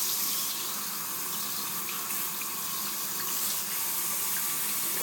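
Hot water runs steadily from a household faucet into a sink, a continuous close hiss and splash with no break across the few seconds.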